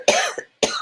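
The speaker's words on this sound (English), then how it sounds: "I'm going to cough." Two sharp, close coughs from one person, separated by a short pause, with no talking.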